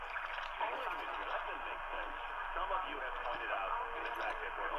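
Sangean DT-400 portable radio tuned to an AM station at 1330, playing a steady, band-limited broadcast with a continuous voice-like program at an even level throughout.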